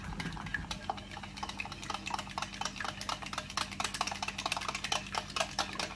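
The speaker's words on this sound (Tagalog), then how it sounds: "Paghalo-halo lang natin yung butter at egg." Butter and a single egg are whisked together in a bowl, the utensil clicking against the sides in a quick, steady rhythm of close, light taps. A low hum runs underneath the whole time.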